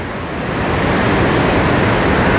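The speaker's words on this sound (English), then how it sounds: "the force of this water is really loud." Loud, steady rushing of water pouring through a narrow rock canyon, a dense continuous roar that swells slightly and stays close and full throughout, with no voices.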